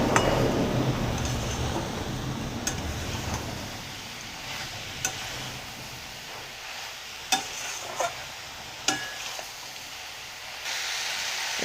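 Kashmiri chili powder being stirred into sizzling onion greens in a pan gives a soft frying hiss, loudest at first and then easing, with a few sharp utensil scrapes and taps against the pan, without any talking.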